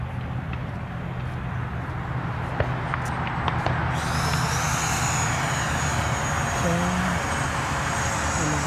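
A Freewing B-2 RC model jet makes a low pass, a steady whooshing ducted-fan roar that swells and rises in pitch as it comes closer. Outdoor background hum runs under it.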